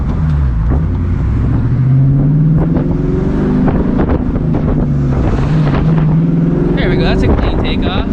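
A 1999–2004 New Edge Mustang GT with a V8 pulls away hard from a launch, its engine note rising through the gears, loud and close, with wind buffeting and a voice talking over the run.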